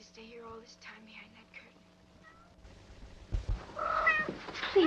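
Cats meow and wail in an old 1947 film scene, faint plaintive calls early on, then louder, higher meows rising near the end over a soft background hiss.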